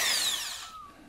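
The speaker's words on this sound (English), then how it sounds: "Drill your pilot holes in here." A small power drill boring pilot holes while a Nuplas plastic beehive is assembled gives a short, close, bright whir that winds down within about a second, with no talking.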